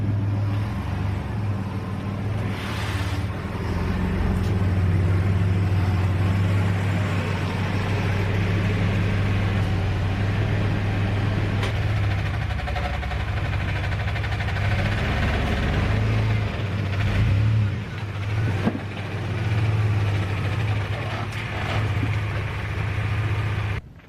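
A 2002 Chevy S-10 Xtreme pickup with its check engine light on idles steadily and close by, a constant deep rumble with no pauses.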